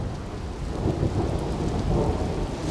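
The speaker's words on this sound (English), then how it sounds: "It's thundering quite a bit." Rain and a low rumble of thunder during a storm in Yellowstone's Upper Geyser Basin, a deep rolling roar under the steady hiss of falling rain, loud and continuous with no voices.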